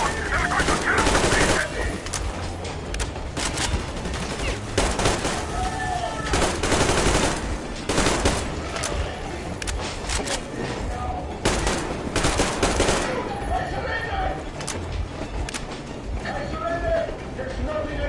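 Sustained gunfire in the shooter Metro Exodus, loud rapid shots and bursts crackling almost nonstop through a chaotic firefight, with shouting voices mixed in.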